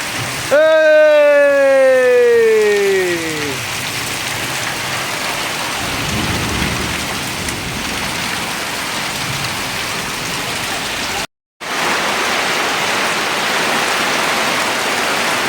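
First monsoon rain with thunder over a Ratnagiri village in Konkan: a steady, loud wash of rainfall runs throughout, with a deep rumble low in the mix and a sweeping tonal sound near the start.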